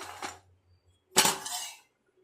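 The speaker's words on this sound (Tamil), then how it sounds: "ஒரு பிளேட்டில் கொட்டி ஆற வச்சு எடுத்துக்கலாம்" Roasted ingredients tipped out of a pan onto a plate, two short clattering pours of small grains striking the plate, the second louder and longer, close by with no talking.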